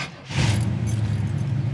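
A 1979 Camaro Z28 engine catches after a brief crank and settles into a steady, deep idle, close by and loud, with no talking over it.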